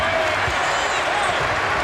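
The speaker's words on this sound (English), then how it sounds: "Hearing it from the crowd, Mark." A crowd at an NBA basketball game in Minnesota, Mavericks at Timberwolves, sends up a loud, continuous roar and cheering across the arena while commentators talk over it.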